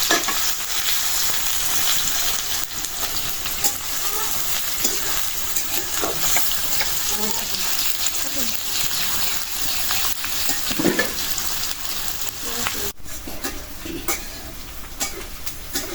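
Sliced onions frying in hot oil in a pan, giving a loud, steady, dense sizzle with occasional stirring scrapes and no talk over it.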